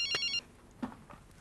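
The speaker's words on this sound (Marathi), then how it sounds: "फोन वाजतोय" A telephone bell rings in a short burst at the start of an indoor scene from a 2009 Marathi film, then stops, leaving near-quiet with a couple of faint sounds.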